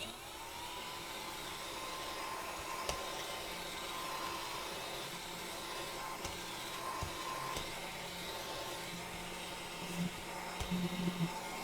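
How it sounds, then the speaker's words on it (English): A small handheld vacuum whirs steadily as it sucks up glitter and gilding bits from an alcohol ink piece, a constant close hum with a few faint clicks and rattles near the end. "this is a godsend, this little vacuum and glitter and bits and bobs"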